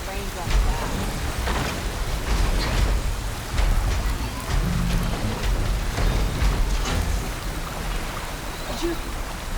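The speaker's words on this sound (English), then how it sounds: "How long is this rain gonna last?" In the video game Horizon Forbidden West, steady rain hisses at a constant loud level, with low rumbling underneath and occasional splashy surges.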